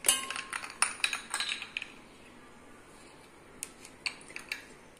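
Three or four ice cubes dropped into a chikoo milkshake with honey, a quick cluster of bright clinks and rattles up close, then a pause and a few lighter clinks.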